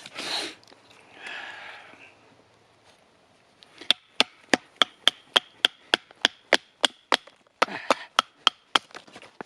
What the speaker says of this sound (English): splitting the wood, making sure everything is dry when I put in the fire